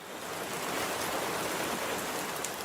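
Rain falling steadily as a dense, even hiss with no distinct drops standing out, unbroken for a few seconds and with no voices.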